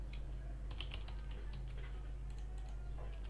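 Quick, light keystrokes clatter on a computer keyboard in an irregular typing burst, faint against a steady low electrical hum.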